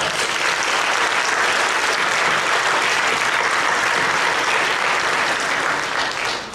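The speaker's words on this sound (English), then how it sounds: "I think they all deserve a round of applause as well" A theater audience gives a sustained, steady round of applause for a production crew, dense clapping filling the room at full volume from start to finish with no talk over it.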